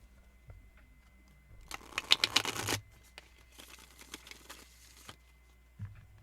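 Message cards being shuffled by hand, a dense burst of quick papery riffling in the middle, then softer card handling and light taps, with no talking.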